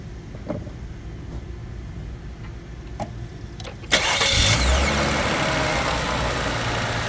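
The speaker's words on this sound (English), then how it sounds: "Next is start the car." A Cadillac CTS 550t engine starts after an oil change: a few faint clicks, then a sudden loud crank and catch at about four seconds, settling into a steady close idle.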